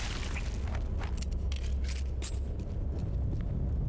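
Deep booming bursts from grenade-like projectiles exploding in Tomb Raider: Anniversary, rumbling low under scattered crackling debris, continuous and fairly loud.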